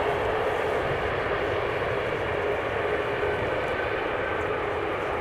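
Airliner landing at Amsterdam Schiphol Airport, a steady broad engine roar that stays loud and even throughout, with no talking.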